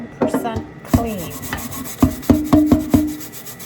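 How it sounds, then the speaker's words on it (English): Nylon brush scrubbing a Pampered Chef Deluxe Air Fryer rotisserie basket, a series of short, close, loud scraping strokes with hard rattling contacts, irregular at first then more even. "Something about the nylon brush getting into all those little holes"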